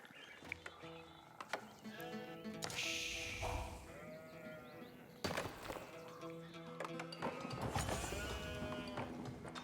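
Sheep bleat in the Age of Empires IV strategy game, several short bleats mixed among game clicks, hoof-like clops and battle effects, with a voice talking over the mix.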